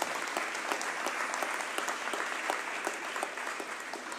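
People gathered at a community YMCA event give a woman a round of applause, a dense, continuous patter of many hands clapping at moderate volume throughout.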